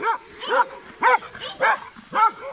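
A dog barks five times in a steady rhythm, loud and close, with short pauses between each bark, in a fenced village yard in Șag near Timișoara, Romania.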